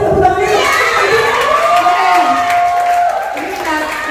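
Crowd at a press conference for a family musical stage show claps, cheers and shouts together, a loud continuous wash of voices and applause, some whooping at the start, that runs throughout.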